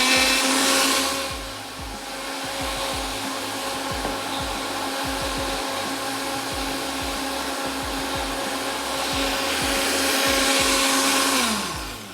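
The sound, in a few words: blender blending a mixture containing sugar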